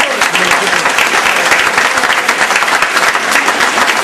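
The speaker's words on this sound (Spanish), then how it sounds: "Yo quisiera pedir un fuerte voto de aplauso." Loud, dense applause from a large audience at a ceremony honouring teachers fills the whole moment with continuous clapping close by.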